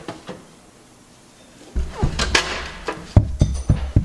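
A drawer of an old welder's tool box being opened, a close metal slide with rattling clinks of tools, followed by several sharp knocks and clanks.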